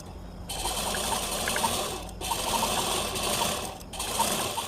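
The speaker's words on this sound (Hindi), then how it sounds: "हम इसके किनारे पर एक सीधी सिलाई चला लेंगे सबसे पहले" A sewing machine runs a straight stitch along the edge of a saree blouse piece being made into a baby girl's top. It hums steadily at close range with two brief pauses, and no one speaks.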